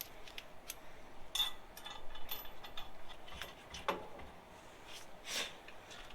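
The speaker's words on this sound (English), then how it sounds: "when you tighten up the U-bolt, you do it crisscross" A ratchet wrench tightens U-bolt nuts while a 3-inch spacer lift kit goes onto a 2010 Toyota Tundra, giving scattered quick metallic clicks, some sharper and closer, over a low, steady background hush.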